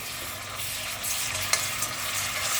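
Whole spices and garlic-ginger paste frying for a mutton karahi, a steady moderate sizzle with a few soft stirring clicks, no voices.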